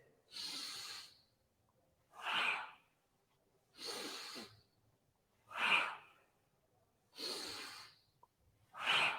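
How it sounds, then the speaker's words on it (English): Deep, forceful yoga breaths alternate between inhales and exhales, about six strong breaths in a steady rhythm. Each is a close, breathy rush separated by near silence. "Powerful breath."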